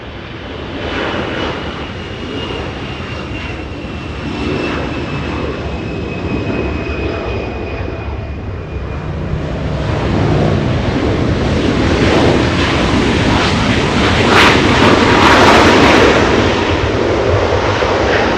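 An Emirates airliner departs Los Angeles International Airport for Dubai, its jet engines giving a broad, sustained roar that builds gradually and stays loud throughout, heard from a spotting position without any talk.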